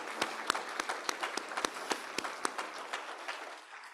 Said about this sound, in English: You need a round of a big applause, please